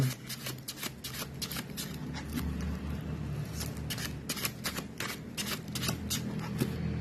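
Tarot cards being shuffled by hand in a continuous stream of quick riffling flicks, steady and close, with no talking over the papery rustle.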